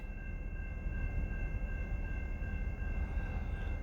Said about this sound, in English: I'm sitting here waiting for yet another train to come through